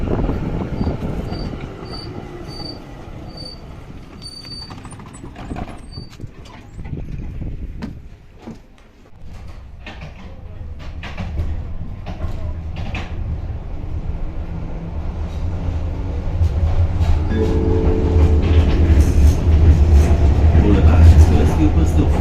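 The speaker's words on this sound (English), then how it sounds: "This route has some very old and very knackered trams." An old, worn-out tram rumbles along the tracks in Sofia, Bulgaria, rattling and clanking over the rails with a low engine drone that swells louder toward the end, while a voice speaks briefly.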